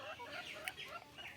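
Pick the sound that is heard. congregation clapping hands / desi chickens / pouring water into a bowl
desi chickens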